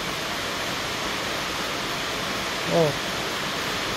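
Water is sprayed steadily onto a car to test a domino switch with hazard, passing-light and high-beam functions for wet faults, a loud constant hiss with a brief faint tone near the end.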